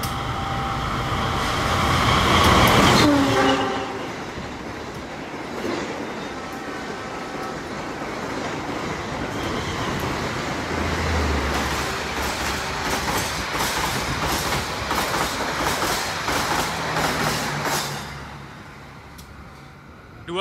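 The Java Priority train from Jakarta to Jogja passes another speeding train with a loud rushing roar and rapid clickety-clack of wheels over rail joints, swelling and fading as the carriages go by.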